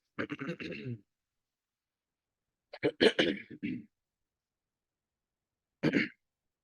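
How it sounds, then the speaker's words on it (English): Three separate bouts of coughing and throat clearing, harsh and close, separated by silent gaps of a couple of seconds. "that's why I'm coughing again and again."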